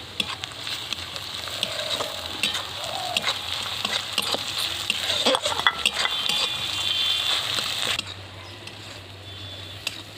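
Chopped tomatoes go into a pan of fried onions and chillies and are stirred, giving a sizzling hiss broken by spoon scrapes and clatter against the pan that quiets toward the end.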